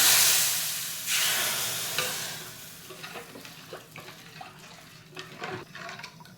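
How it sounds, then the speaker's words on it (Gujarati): Hot tempering of curry leaves, asafoetida and turmeric poured into Gujarati kadhi gives a loud burst of sizzling that fades into softer bubbling and stirring clatter, close by with no talk. "હવે આ વઘાર કઢીમાં આપણે એડ કરી દેવાનો।"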